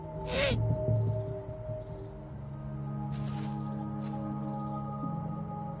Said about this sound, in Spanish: el búho real tiene un agudo oído y su excelente vista le permite ver en la oscuridad